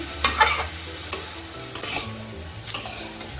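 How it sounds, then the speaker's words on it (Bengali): A spoon stirs and scrapes through a sautéing mixture with mustard paste in a pan, set to a soft steady sizzle, with a few sharp scraping strokes in quick succession and no talking. "সব কিছু আমি ভালো করে মিশিয়ে নিচ্ছি একটু কষিয়ে নিচ্ছি"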